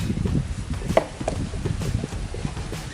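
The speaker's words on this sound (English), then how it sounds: "So let me get back to chopping the pork." A knife chops pork on a cutting board for pork sisig, giving a string of soft, uneven, close thuds with one sharper knock, fairly quiet with no talking.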